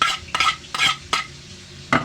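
Spoon stirs chopped tomato and onion in a bowl for radish kinilaw, a quick series of wet scraping strokes, each burst close and moist, separated by brief pauses, with no talking.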